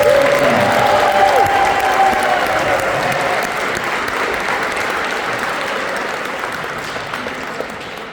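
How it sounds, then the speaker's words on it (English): A concert audience applauds a university symphonic band, a broad wash of many hands clapping that starts full and slowly fades, with a brief whistle near the start. "another round of applause"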